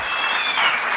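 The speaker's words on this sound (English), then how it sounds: "So one round of applause for Balaji as well." A burst of applause from a crowd at an alumni meet, steady clapping filling the whole moment without pause.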